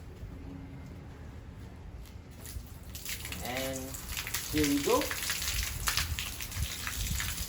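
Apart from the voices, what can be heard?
water running from an opened tap through a repaired hose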